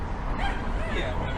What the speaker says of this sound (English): the dog doesn't like it